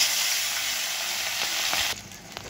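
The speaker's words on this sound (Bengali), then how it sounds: "এবারে এই কড়াই একেবারে মাছটা ভেজে নেব" Fish sizzles steadily as it fries in oil in a kadai, a loud dense crackle that drops off sharply near the end, leaving fainter sputtering and a few clinks.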